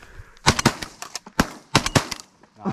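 Shotguns fired at pigeons during a hunt, a quick series of loud, close bangs in clusters of two and three shots over a couple of seconds, with no talk over them.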